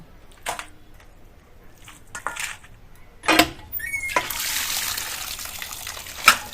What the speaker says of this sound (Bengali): মাংসগুলোকে ধুয়ে নিব।